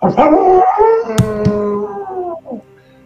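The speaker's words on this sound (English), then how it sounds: "some sort of a dog like howl" A single loud, drawn-out dog-like howl sound effect rises and then slides downward in pitch, with brief sharp accents partway through, before trailing off into a short whimpering tail.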